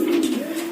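A pigeon's soft, rolling coo sounds close and continuous for under a second, with no voices over it.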